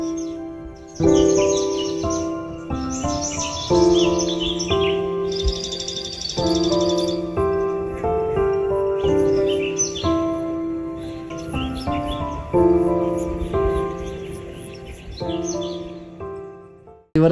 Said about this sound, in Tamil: இது நம்ம ஊரில் வளர்ப்போம்ல அந்த மாதிரி சின்ன லவ் பேர்ட்ஸ்ன்னு நினைக்கிறேன்.